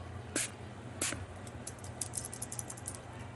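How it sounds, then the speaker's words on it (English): Makeup setting spray misting a brush: two short, soft hissing bursts close by over a low background hum, followed by lighter faint ticks. "I'm going to just use a setting spray and lightly mist my brush."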